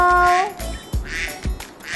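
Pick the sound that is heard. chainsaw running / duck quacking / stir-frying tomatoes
duck quacking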